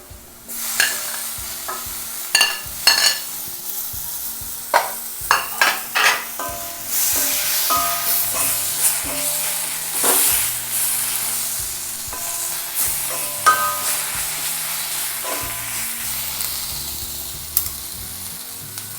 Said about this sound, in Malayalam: ഇനി നമുക്ക് ഇതിലേക്ക് തക്കാളി, അരിഞ്ഞു വെച്ചിരിക്കുന്ന തക്കാളി ഇടാം.